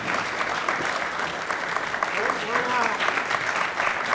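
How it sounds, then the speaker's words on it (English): A pool audience at the U.S. Open 9-Ball Championships applauds a break and run, steady clapping that holds throughout while a commentator talks over it. "Nice round of applause, knowledgeable audience."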